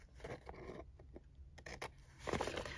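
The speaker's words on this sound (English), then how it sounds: "I'm going to cut them with smaller scissors." Small scissors snipping stamped masterboard at the corners, a few soft close cuts and scrapes of blade on card, faint and quiet.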